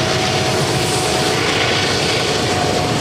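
Toy helicopter in a toy town playset, a steady broadband whirring rotor drone that holds loud and even from start to finish with no talking.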